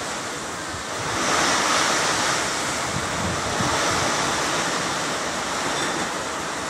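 Strong, steady typhoon wind roars without a break, a dense rushing noise that swells after the first second and stays loud with no voices.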